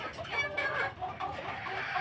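A white Kelso chicken clucks in a busy, continuous run of calls close by, with soft background noise and no clear speech.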